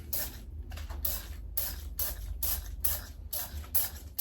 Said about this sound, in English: I kind of am going to spritz it.